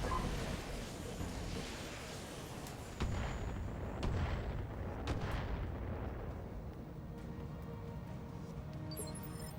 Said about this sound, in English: that was probably one of their turrets firing thunderbolts